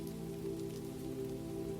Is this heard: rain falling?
yes